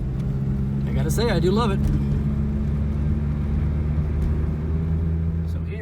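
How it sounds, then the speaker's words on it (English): A 1988 Toyota Corolla engine runs steadily at idle, a low continuous hum and rumble throughout, with a person speaking briefly over it. "So now it's running and driving."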